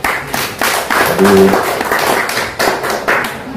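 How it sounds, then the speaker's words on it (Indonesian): Audience clapping at a regional coordination meeting in Pasaman, a short burst of hands applauding amid a speaker's voice from a microphone, moderately loud in a room. "Tepuk tangan Bapak."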